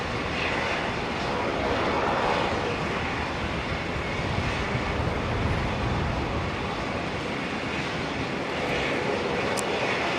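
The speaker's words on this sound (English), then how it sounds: "We've got a couple of 73s heading on out." Boeing 737 jets departing runway 19 right at Brisbane Airport produce a broad, continuous engine roar that stays loud and steady for the whole stretch, with no voices.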